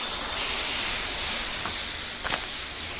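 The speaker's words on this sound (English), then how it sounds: "It's a nice little sound effect of them all sizzling." Hot copper items in the Minecraft game sizzle as they drop into a pool of water, giving a steady, soft hiss that holds for the whole stretch, with a few brighter bursts of steam.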